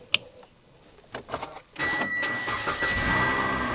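A car engine cranks and fires into a steady idle once a battery disconnect switch is turned on, following a few soft clicks and knocks, then runs continuously and fairly loud to the end.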